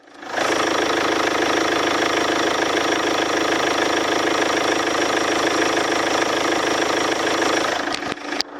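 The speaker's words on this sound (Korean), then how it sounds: "엔진 소리 들어보도록 하겠습니다" A Daewoo Winstorm 2WD SUV engine with about 80,000 km idles steadily up close with the hood open, a constant mechanical hum and whir that cuts off near the end.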